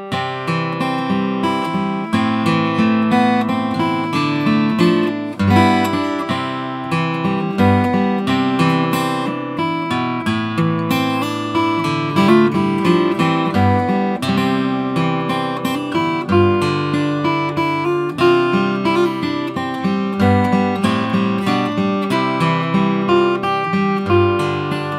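An acoustic guitar plays the hymn Immaculate Mary in a simple liturgical arrangement, steady strummed and picked chords with a slow, even rhythm, clear and close with no voices.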